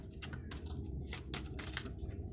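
Shaman Healing Oracle cards shuffled by hand, a soft, steady run of papery riffles and slides that comes and goes in small bursts over a low, quiet room hum.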